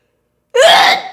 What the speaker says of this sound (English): Oh my god, I think I just sneezed off a lash.